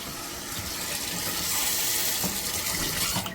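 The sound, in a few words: faucet running cold water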